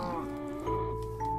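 Sheep in the video game Minecraft bleat in a steady, drawn-out tone, a couple of overlapping calls heard clearly in the game audio.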